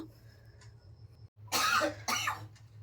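A child gives a couple of short coughs close by after a quiet low hum, two harsh bursts in quick succession.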